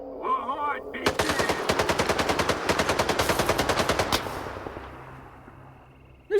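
Rapid automatic gunfire in Stalker 2: Heart of Chornobyl rattles out as a long, fast, evenly spaced burst of loud, close shots lasting about three seconds, preceded by brief game chatter and fading into a ringing tail.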